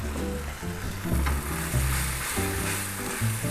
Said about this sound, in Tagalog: Igisa mo lang ng konti